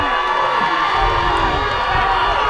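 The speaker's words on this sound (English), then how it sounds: "the Howe crowd is not happy" Football crowd at a high school game between the Howe Bulldogs and Pottsboro Cardinals cheering and shouting after penalty flags, a steady roar of many voices with whoops and children's shouts, close and loud without a break.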